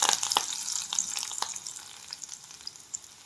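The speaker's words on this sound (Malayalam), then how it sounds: "ഇത് നമ്മൾ നമ്മുടെ കറിയിലോട്ട് ഒഴിച്ച് കൊടുക്കാം." Green chilli tempering poured into a traditional Angamaly mango curry: a sharp sizzling burst up close that crackles and fades to a softer fizz.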